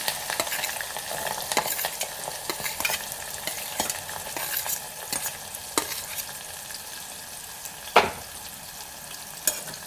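Onions for a brinjal and tomato curry fry in a pan, with a continuous soft sizzle broken by repeated scraping stirs and a sharper clack near the end.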